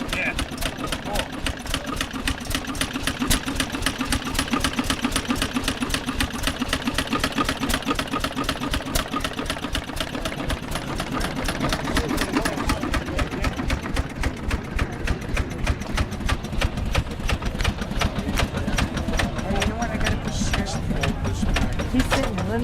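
A 1901 Packard Model C single-cylinder engine runs steadily close by, its rapid regular chuffing pulses steady throughout with a slight shift in pace partway, and voices talk over it.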